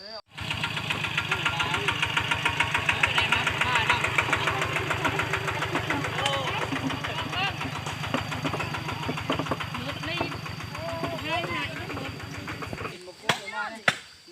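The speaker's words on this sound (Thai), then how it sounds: "เดี๋ยวเขาก็สิขี่รถไถมา" A farm tractor engine runs nearby with a loud, steady low chugging beat that holds for several seconds before the sound cuts off abruptly near the end, with a person talking over it.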